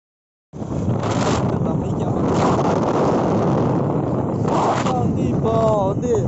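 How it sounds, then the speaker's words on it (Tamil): Heavy wind roars continuously across a hilltop in the Kalvarayan hills, buffeting the microphone with a loud, steady rush and a few gusty surges, while a voice speaks briefly near the end. "காற்று வேறு கொஞ்சம் ஹெவியாக இருக்குது"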